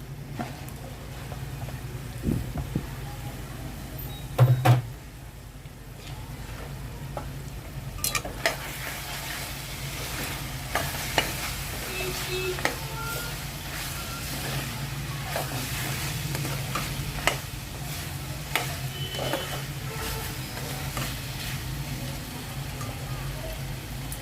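Minced mutton keema and tomatoes frying in oil, a steady sizzle with repeated spatula scrapes and knocks against the pan, heard close for over twenty seconds.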